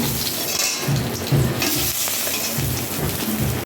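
Bay leaf, dried red chilli and whole garam masala sputter in hot oil as a tempering, a close, loud crackling sizzle with stirring noises, no talk.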